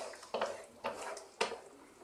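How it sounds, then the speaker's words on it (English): A mushroom cream cheese pasta sauce is stirred in a pan. Three distinct scraping strokes of a utensil against the pan sound fairly quiet and close, with short pauses between them. "Keep stirring."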